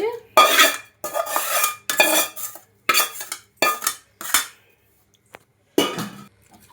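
A spoon mixes amla pickle with oil in a metal vessel, giving a series of sharp scraping, clinking strokes in irregular bursts with brief pauses between, close and loud with no talk.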